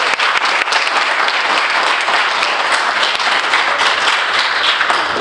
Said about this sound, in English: let's have a round of applause for the kids and Ms.